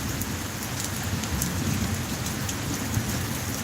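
A rainstorm pours steadily, a dense, even hiss of rain striking surfaces with scattered sharp droplet ticks, continuous and fairly loud with no voices.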